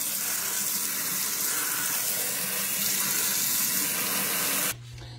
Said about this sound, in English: You rinse them good, get that can taste off of.